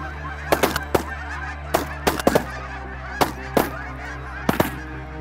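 Lesser and Canada geese honk repeatedly in loud, scattered bursts overhead during a waterfowl hunt, several calls overlapping against a steady low background hum.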